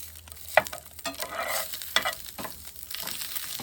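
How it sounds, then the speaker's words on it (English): Chicken sizzles and crackles as it reheats in a hot pan at a campsite in Saskatchewan's Qu'Appelle Valley, with occasional scraping and stirring sounds and a brief louder clatter near the start. "so we're cooking some chicken."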